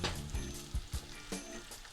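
Eggs with runny yolks frying in a pan, a steady soft sizzle with a few low knocks and scrapes from the pan, fairly quiet, no voices.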